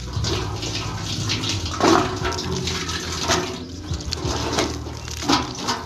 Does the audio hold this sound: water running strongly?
yes